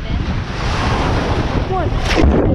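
Rushing surf and wind buffet the microphone in a dense, steady wash, with a brief faint voice-like call near the end.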